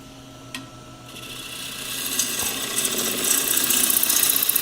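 Wood lathe running as a turning gouge cuts along a curve on a spinning workpiece, the whirring cut swelling in loudness and brightness as the tool works round, with a few small knocks near the start.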